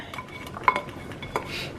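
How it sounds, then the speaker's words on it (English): Sautéed peppers and onions are tipped into a metal pot of boiling soup with a few light clinks and scrapes of a utensil against the cookware, close and fairly quiet. "I'm just going to dump those in the pot."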